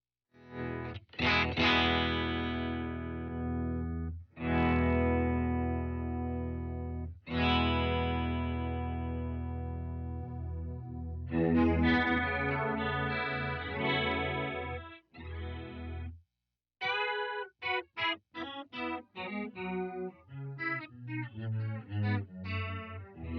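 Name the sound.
Electro-Harmonix POG2 pedal detune effect on guitar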